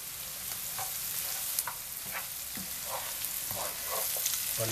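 Sizzling frying with scraping stirs as flour is added bit by bit to a pan for banana farofa, steady hiss broken by short spoon-scrape bursts, close and moderately loud.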